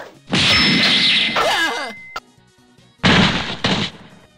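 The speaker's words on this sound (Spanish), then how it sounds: "Alguien que olvidó la campana que estaba en la puerta, supongo." A bell hanging by a door is struck hard several times, giving loud ringing metallic clangs with a pause between bursts, alone without talk.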